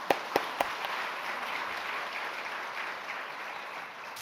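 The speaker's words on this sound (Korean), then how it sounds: "우리 그 찬양팀에게도 박수 한번 부릅시다." A church congregation applauding its worship team during a service: a few sharp, distinct claps open, then a sustained, moderately distant wash of clapping from a gathered crowd that slowly thins toward the end.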